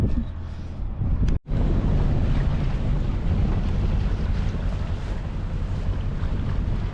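On a light downwind sail toward an anchorage, steady breeze and rushing water along a sailboat's hull fill the sound, loud and continuous with wind buffeting the microphone and one brief dropout.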